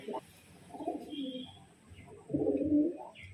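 A male pigeon coos nearby, offered for sale as a performing breed, in two short bursts of soft, throaty, rolling calls with a pause between them.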